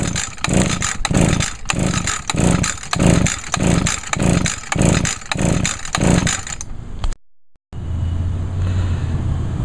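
An Echo PAS 230 two-stroke power head, three years old, pull-started repeatedly with the throttle held wide open for a compression test: a steady run of rhythmic recoil pulls and chugging compression strokes, then a brief gap and a lower hum.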